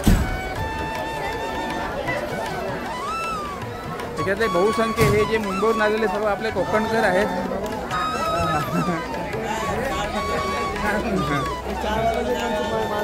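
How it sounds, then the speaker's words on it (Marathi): Dense hubbub of a large crowd of travellers at the Rajapur ST bus depot, with constant overlapping chatter and movement while someone speaks close in front of the noise. "तर पाहताय खूप मोठ्या प्रमाणामध्ये आता गर्दी आहे राजापूर डेपोमध्ये."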